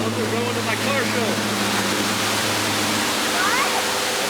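Water flowing in an outdoor water feature makes a steady broadband rushing wash throughout, with a low engine-like hum underneath and faint chirps.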